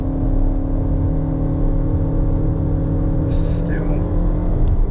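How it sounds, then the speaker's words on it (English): A 2025 MG ZS Hybrid accelerates at full throttle, a steady, droning engine and road rumble heard from inside the cabin, holding an even pitch throughout, while someone talks over it. "So that's full throttle, still full throttle. My foot is mashed into the ground."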